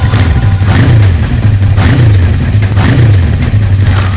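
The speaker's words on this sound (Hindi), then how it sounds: "रुको, हम तुम्हें कुछ बाइक्स की आवाजें सुनाएंगे।" A motorcycle engine idles loudly nearby and is revved several times in a steady rhythm, its pitch climbing briefly with each rev.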